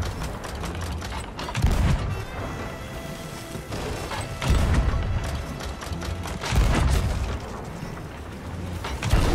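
Repeated cannon blasts in Sea of Thieves, heavy booming shots and clattering impacts arriving in bursts of rapid fire across the whole stretch, loud and close, with no talk over them.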